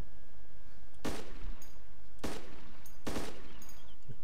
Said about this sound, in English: Now you shooting?